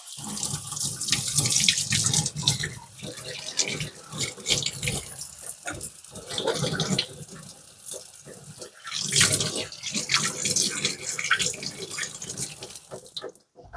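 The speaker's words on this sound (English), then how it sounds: "let me rinse my hands" A kitchen tap runs steadily while hands sticky from making peanut brittle are rinsed under it, the water splashing and changing as the hands move through the stream.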